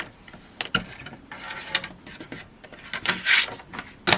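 A paper trimmer slides its blade through card in short scraping and rasping strokes, several bursts close by and growing louder toward the end, with no voices.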